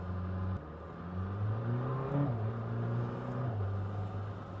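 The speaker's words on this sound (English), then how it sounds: "As soon as you start playing around with that engine, it really starts to wake up." A Lamborghini Temerario V8 engine hums steadily, then revs up in a couple of rising surges before settling back to a smooth idle, heard from inside the cabin.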